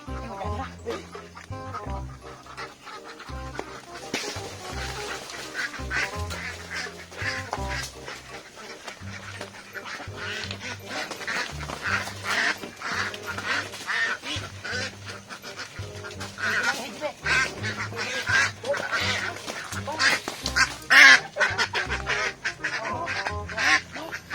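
Ducks quack repeatedly over a busy, noisy background with overlapping animal calls, the quacks steady and moderately loud throughout.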